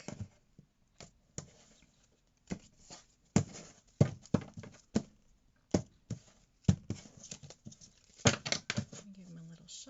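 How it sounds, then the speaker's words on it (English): Crisp papery taps and riffles of a tarot deck being cut and handled, irregular short bursts close up, with a brief voice near the end. "I'm going to cut the deck."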